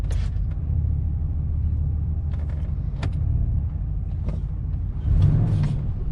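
The engine of a surplus Chevrolet Suburban idles in neutral with a steady, close low rumble, a few faint clanks over it, and a brief surge in the last second.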